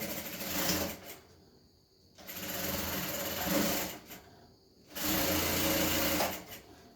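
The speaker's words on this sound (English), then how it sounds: "So the next thing I want to do is to start sewing on 1/2 inch." A sewing machine stitches fabric for a gown in three bursts of fast, even whirring, with short quiet pauses between runs.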